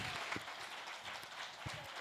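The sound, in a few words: audience hand clapping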